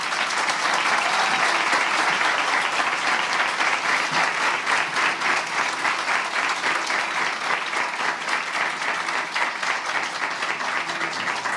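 Sustained audience applause for Sonia Sotomayor at a panel session, a full, even roar of many hands clapping that runs for over ten seconds with no speech.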